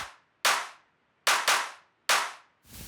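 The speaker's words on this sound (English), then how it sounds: "here are those claps that I talked about" Sampled hand claps in a surf rock track land as four sharp, dry hits with quick decays, spaced irregularly with silence between, the last one softer and cut short.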